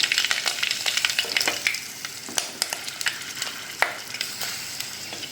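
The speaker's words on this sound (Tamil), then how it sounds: "இந்த பொரியும் போதே பார்த்தீங்கன்னா நம்ம காஞ்ச மிளகா, பச்சை மிளகாலாம் ஆட் பண்ணிக்கலாம்." Dried red chillies and green chillies crackle in hot oil as a tempering. A bright, busy sizzle is scattered with sharp pops and spits, close up and without talk.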